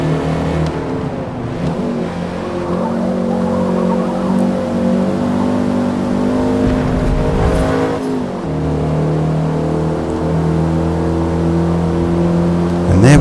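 Race car engines in the Forza Motorsport video game drone loudly and continuously through a practice session, with rising and falling revs as cars pass nearby.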